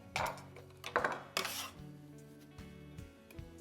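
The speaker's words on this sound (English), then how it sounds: "I have a little bit of parsley here. I'm gonna give that a chop as well." A knife chopping parsley on a board, a few sharp scattered knocks and scraping strokes close up, then quieter low kitchen hum.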